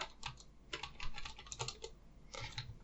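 Light, quick keystrokes on a computer keyboard come in short clusters with small pauses between them, close by and quiet.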